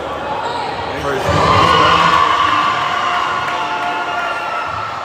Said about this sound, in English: You got a few hecklers from the Tasman side just calling for the air ball.